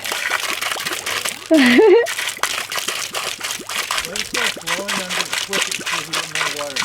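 Water gushes from a pipe, rushing and splashing steadily in the background while a few people talk and exclaim over it.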